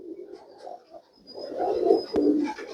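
An old breeding pigeon, about 18 to 20 years of age, cooing close by in soft throaty rolling phrases that swell louder toward the end, with faint background noise.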